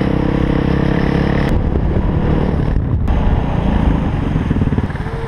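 A 450 supermoto motorcycle engine runs loud and close, a steady broadband roar with wind rush that holds for several seconds and dips briefly twice, with no talking.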